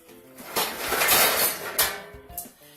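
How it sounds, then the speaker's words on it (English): A metal cooking pan is handled in a home kitchen, giving loud close clanks and scrapes that build into a clattering rattle before fading to a couple of lighter knocks. "I took a cooking pan, probably about this size"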